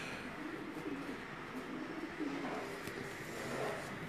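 Pigeons belonging to a fancier in Jalalpur Bhattian coo softly in low, murmuring bursts against a steady outdoor hiss, a faint voice briefly audible in the background.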